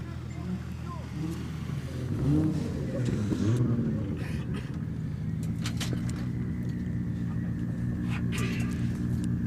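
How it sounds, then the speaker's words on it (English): Drift cars idle and rev on the start line at a British Drift Championships event at Three Sisters, giving a steady engine rumble with swelling revs, heard under a commentator talking. "Okay, we've two cars on the line."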